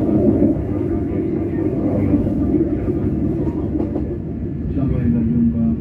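Baturaden Express train arriving at Kroya station, with a steady low rumble of rolling wagons heard from inside. A brief brake squeal rises near the end.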